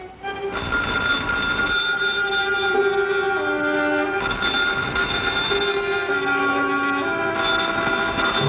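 An old-fashioned telephone bell rings in three long bursts, a steady metallic trill that repeats with short gaps between.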